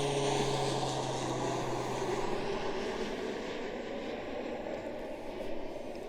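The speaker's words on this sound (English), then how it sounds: "Got some planes coming over here." Airplanes flying overhead outdoors, a steady droning engine roar that gradually shifts in pitch as the aircraft pass, moderately distant with no talking.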